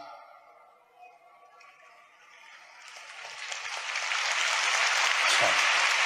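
Clapping rises from a large audience at a religious rally in the Songdo Convensia hall in Incheon, swelling from quiet into a dense, sustained wash of applause.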